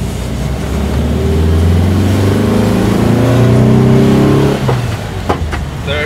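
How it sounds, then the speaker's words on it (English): An SS143 engine fitted to a bus, heard with windows open, runs flat out in second gear: a loud, rising drone with climbing harmonics that builds for several seconds, then cuts off abruptly, followed by a few clicks. "So here the sound of the SS143."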